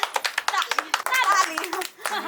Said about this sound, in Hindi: ताली मार